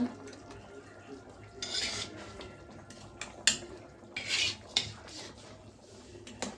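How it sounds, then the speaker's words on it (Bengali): Baila fish dropped into a pan of cauliflower, with metal clatter and scraping of a utensil against the pan in a few distinct bursts over a quiet kitchen background. "এই যে এখন আমি মাছগুলো দিয়ে দিতেছি, এই যে বাইলা মাছগুলা"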